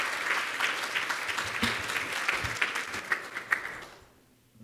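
Loud applause from a conference audience, a dense patter with a few sharper claps standing out, fading out near the end.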